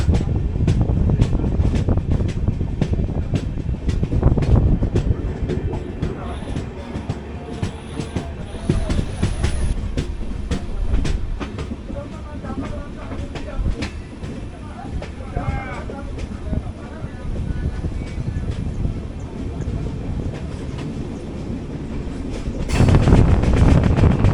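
The Haripriya Express sleeper-class train rolls between Belagavi and Hubballi, its wheels clacking rhythmically on the rails amid loud, continuous rumble and wind noise, with voices underneath.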